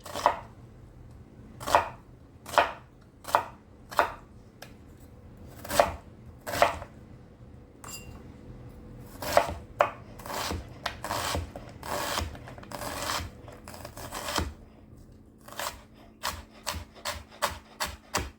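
A knife chops a sweet onion on a cutting board in sharp, close knocks, first spaced out at a slow pace, then quickening into a dense run of rapid cuts before slowing again, with no talk.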